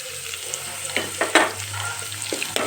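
Ginger garlic paste hits hot oil in a tempering for fenugreek kadubu, giving a steady close sizzle with a few louder bursts of spitting and crackle, no voices.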